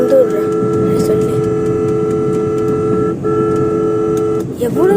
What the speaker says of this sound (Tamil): ஹார்ன் அடிச்சுட்டே தான் இருக்கிறேன்.